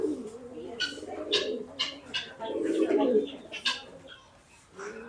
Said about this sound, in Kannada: ಇದೆಲ್ಲ ಕಲರ್ ಪಾರಿವಾಳಗಳು.